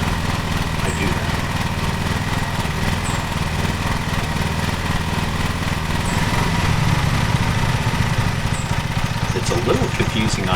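Riding lawn mower in a lawn mowing simulator game runs steadily at a constant drone throughout, with a faint rise in intensity near the end and no speech.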